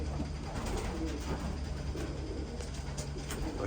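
Young racing pigeons in a loft give soft, steady cooing and rustling, a low murmur from many birds close by with no talk.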